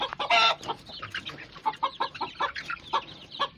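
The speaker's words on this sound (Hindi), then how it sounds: "ये मुर्गे मुर्गियाँ अभी इकट्ठे हैं।" Young Aseel and Australorp cross chickens about two and a half months old, gathered together in a flock, clucking and squawking in quick overlapping bursts, close and fairly loud.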